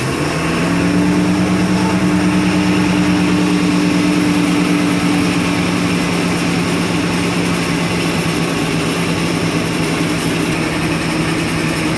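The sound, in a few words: Dodge Sportsman RV engine started with choke and throttle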